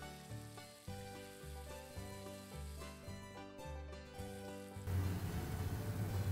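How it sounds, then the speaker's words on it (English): Onions sizzle and fry in a pan while being stirred for a tartiflette-inspired American casserole, a steady close crackle under a melodic backdrop that swells louder and hissier near the end. "So we're gonna stir these and cook them until the onions start getting a little color to them"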